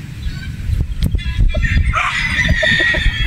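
A Possum Roundhead gamefowl rooster gives short crowing calls and clucks at close range, set against steady background noise from the yard.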